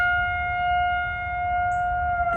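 Civil defense tornado siren sounding a steady test tone, a sustained loud wail holding level throughout with a faint low rumble beneath.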